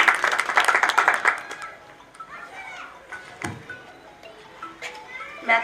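Audience clapping at a new branch inauguration ceremony: a burst of loud, close applause that quickly fades into scattered claps and background chatter.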